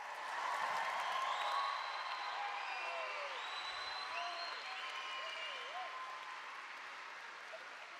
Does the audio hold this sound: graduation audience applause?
yes